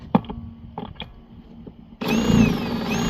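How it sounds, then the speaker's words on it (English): A few sharp metallic clanks ring out, then a power drill starts up and whines steadily, loud and close, drilling a hole in railroad rail. "You drill that hole right there."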